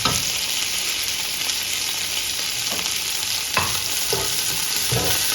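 Sliced onion sautés with coriander and mint leaves in hot oil for chicken biryani: a loud, constant sizzle up close, with a few sharp scrapes of a spoon stirring the pan and no voices.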